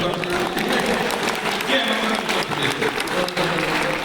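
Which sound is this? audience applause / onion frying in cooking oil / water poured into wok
audience applause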